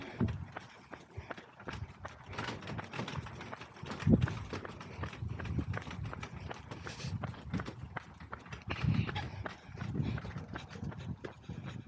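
Quick, rhythmic hoofbeats of a horse moving along the Downs Link trail, steady and close, with light rustling underneath.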